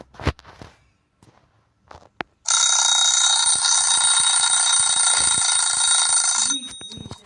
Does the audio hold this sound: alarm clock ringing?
yes